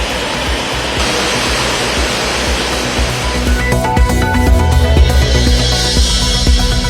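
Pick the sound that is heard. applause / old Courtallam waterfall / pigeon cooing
old Courtallam waterfall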